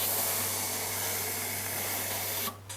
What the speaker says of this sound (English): it's just like surprise of how much steam actually comes out on the side